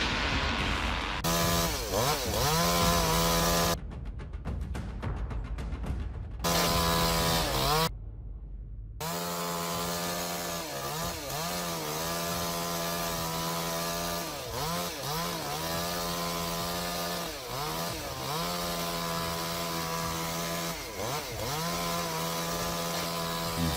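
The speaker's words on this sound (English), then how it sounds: "How long do you think it will take him to take down this giant monster with that giant chainsaw?" A large chainsaw cuts into a giant tree, its high, buzzing engine running loud and steady with rhythmic dips in pitch as the chain bites into the wood, after a few short, choppy bursts at the start.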